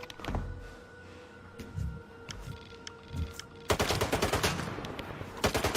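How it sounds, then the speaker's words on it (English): Video game gunfire: scattered single shots at first, then a dense burst of rapid automatic fire that keeps crackling to the end, fairly loud against a quiet background hum. "Who's shooting?"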